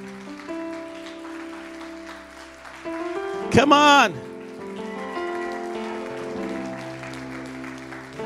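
Audience applause at a sermon event, continuous clapping filling the space while a voice exhorts the crowd over it, with a brief loud vocal shout partway through.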